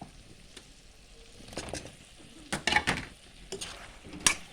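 Chicken pieces and chopped potatoes sizzle in hot oil in a pan on a gas flame, with a steady soft frying hiss broken by scraping and clinking stirs of a spoon against the pan.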